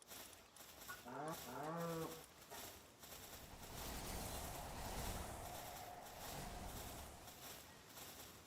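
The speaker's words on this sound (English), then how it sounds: "I'm definitely bringing a cow." A cow Pal in the video game Palworld lets out a single drawn-out moo over game ambience, followed by a continuous rushing background noise.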